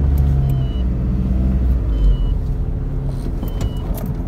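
A car backing up during parallel-parking practice around marker stakes gives a steady low engine rumble and hum, close and fairly loud, with faint high beeps on top and no talk.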